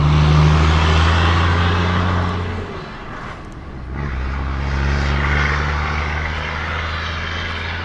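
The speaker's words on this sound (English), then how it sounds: "Let's wait for this truck to pass because it's loud as shit out here." A loud truck passes outdoors, its deep engine drone and rumble filling the scene, easing briefly in the middle before building again and holding steady.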